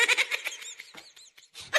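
A goat bleats a few short, wavering times up close, with brief pauses between calls and no talk.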